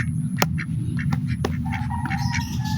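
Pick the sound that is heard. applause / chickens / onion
chickens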